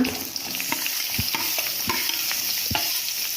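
Finely chopped onion fries in oil over medium heat, giving a steady, close sizzle with several dull knocks and scrapes from the stirring spoon at uneven intervals.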